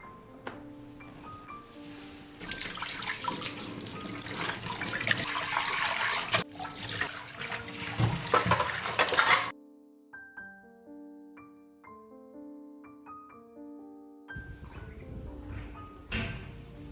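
Kitchen utensils washed under a running tap: steady loud gush of water with clinks and knocks of dishes, a break with light clattering and ringing metal, then the water runs again, no speech.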